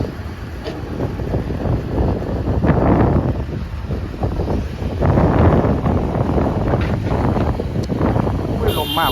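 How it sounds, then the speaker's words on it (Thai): Strong wind gusting across an open outdoor worksite where a PC350-8M0 excavator is loading heavy soil into a ten-wheel dump truck; the broadband rush swells in waves throughout, with machinery rumble underneath and voices talking. "ลมยังกับหน้าหนาวนะ"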